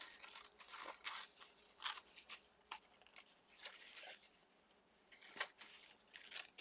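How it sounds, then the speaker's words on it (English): Scissors snip along the back of a napkin craft piece decorated with Mod Podge and paint, giving a series of close, crisp cuts in irregular bursts with short pauses between. "I'm just going to trim this off from the back side where I can see it"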